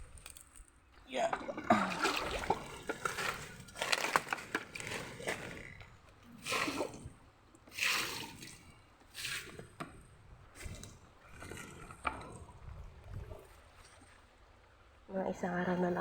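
Irrigation water splashes and sloshes onto squash and banana plants in a Filipino backyard garden. The quiet squishing and trickling comes in uneven bursts, with brief pauses and a louder splash near the end.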